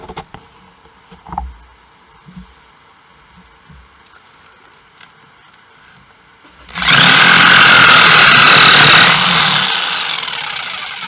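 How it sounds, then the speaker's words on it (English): A saber saw cuts a canoe mast partner, starting abruptly after quiet taps and clunks and buzzing loudly and steadily for about four seconds before tapering off. "Now I believe I will get out the saber saw"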